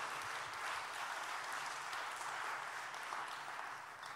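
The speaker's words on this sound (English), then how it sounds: "clap your hands if you understood it" Church congregation clapping during a sermon, a continuous, dense roar of many hands applauding together, steady and full throughout.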